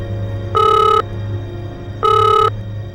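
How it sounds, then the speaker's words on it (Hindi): A telephone rings in two separate bursts, each about half a second long and about a second and a half apart. The ringing is loud and close, heard over a low steady hum in an office scene from an Indian TV crime drama, with no talking. "कविता को फोन दे।"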